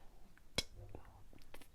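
A quiet voice imitates a cockroach clicking as it cleans itself, giving one sharp, breathy click burst followed by a few softer whispered ticks.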